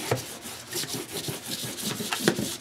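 Paper freshly glued onto an album cover being burnished by hand, a steady close rubbing and scraping with repeated back-and-forth strokes, no talking.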